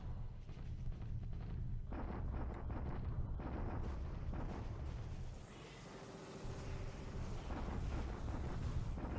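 Continuous rumbling artillery bombardment in a World War II strategy video game, dense booming blasts and roaring noise that dip briefly mid-way before swelling again.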